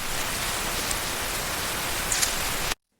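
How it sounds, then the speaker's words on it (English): Heavy rain pours on city streets at night in Seoul as a dense, even hiss that holds at steady loudness, then cuts off abruptly near the end. "The rain fell hard on the streets of Seoul that Thursday night"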